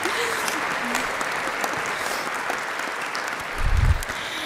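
Applause at a university honors convocation award presentation, a steady wash of clapping from the audience that runs throughout, with a brief low thump near the end.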